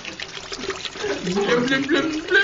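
Fanta soda poured into a mixed drink, a liquid splash and trickle rising over a couple of seconds with people talking over it.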